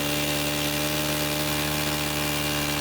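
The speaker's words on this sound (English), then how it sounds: "you need to have it running and pull the trigger on it so it's running at full throttle" A Stihl string trimmer engine held at full throttle for a carburetor adjustment, a steady high-revving buzz with strong harmonic whine, close and unbroken throughout, with no voices.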